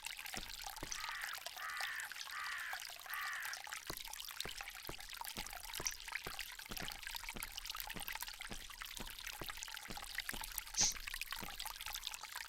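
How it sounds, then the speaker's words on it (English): A fountain in the Agatha Christie ABC Murders video game pours and trickles steadily as a soft, continuous wash of water, with faint repeated ticks and occasional bird-like calls in the ambient scene, no voices present. "This fountain makes a very relaxing sound."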